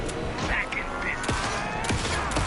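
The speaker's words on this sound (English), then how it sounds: "Anderson, pin him down with gunfire for me to get the light on him." Gunfire in the video game Alan Wake 2 comes as several sharp shots and bursts over a dense, noisy background, with voices talking in between.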